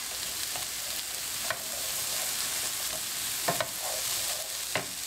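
Peppers and onion fry in a pan with a steady close sizzle and crackle, broken by occasional scraping clacks as they are stirred.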